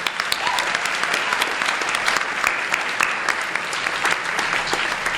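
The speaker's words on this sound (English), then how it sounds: "So can we give them one more round of applause" An audience at a high school Black History Month celebration gives a full round of continuous, even applause, with crisp individual claps standing out over a few seconds.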